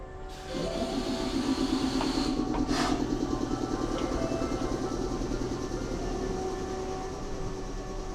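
A lightly used rural passenger train in Yamaguchi, Japan, rolls along steadily with a continuous rumble and rhythmic clatter of wheels on track, heard from inside, loud and close for several seconds.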